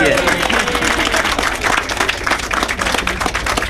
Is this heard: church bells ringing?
no